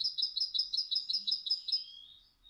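High, tinkling goldfinch song: a quick series of repeated metallic notes that trails off into a softer, jingling finish, heard alone and up close.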